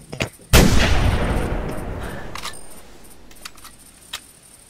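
A single loud rifle shot from the hunting game theHunter cracks sharply, then its long echo rolls away and fades, with a few faint clicks afterward and no talk.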